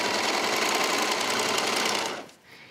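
A serger sewing a neckline seam on a woman's shirt, a fast, dense mechanical whir running steadily and close for about two seconds, then stopping abruptly.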